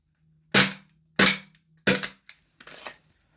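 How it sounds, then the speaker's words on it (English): Gas blowback airsoft pistol, an FN 509 by Double Eagle/EMG/Cybergun, dry firing on propane: four or five sharp snapping cracks of the slide cycling, close and loud, spaced about half a second apart, with a faint low hum between shots. "We're just going to dry fire it for now. And we'll see what the blowback action is like."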